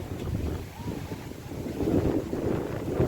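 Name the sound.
strong wind blowing at a train station before a storm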